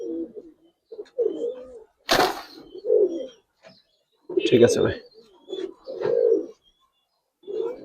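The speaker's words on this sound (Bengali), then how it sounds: "এটা রামপুরি কবুতর" Indian Rampuri pigeons coo in short, soft phrases between bursts of men's speech, with a sharp flutter or knock partway through.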